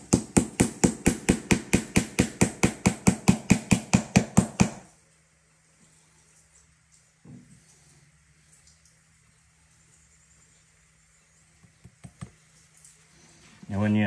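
Tricouni nails being hammered into boots: a fast, even run of about twenty sharp, loud hammer strikes for five seconds, then near silence with a few faint taps and knocks.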